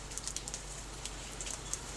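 Rain falls steadily as a dense, even hiss with faint scattered drops and soft ticks, continuous and fairly quiet, with no voices.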